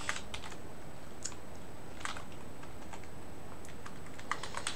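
Fingers tap on a computer keyboard in short irregular bursts of clicks, close and fairly quiet over a steady background hiss, with no talking.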